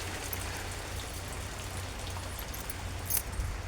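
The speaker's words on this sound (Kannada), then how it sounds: "ಫಂಕ್ಷನಿನ ದಿವಸನೇ ಮಳೆ ಬರ್ತಾಯಿದೆ, ಸಖತ್ತು ಮಳೆ." Heavy rain pours steadily outdoors, a soft, even hiss of drops on surfaces that stays constant throughout, with no talking.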